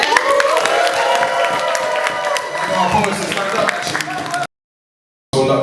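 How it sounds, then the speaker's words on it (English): A crowd claps and cheers for poets at a hall of fame event in a dense, continuous wave of applause that cuts off abruptly into brief silence near the end. "Give a big round of applause to all our poets."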